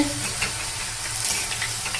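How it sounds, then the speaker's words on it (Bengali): Potato pakoras deep-frying in hot white oil give a steady, close, continuous sizzle and bubbling hiss, with no talk over it. "দেখুন কত সুন্দর পকোড়াগুলো ভাজা হচ্ছে"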